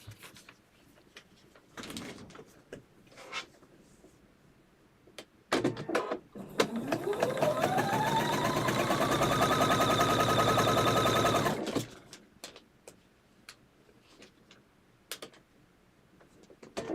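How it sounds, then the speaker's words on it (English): A sewing machine stitches a quilt block for an old maid quilt pattern, running in one steady, loud, continuous burst of about six seconds that winds up and holds its pace, with quiet fabric handling and small clicks before and after. "And fold it over, and now I'll stitch that again."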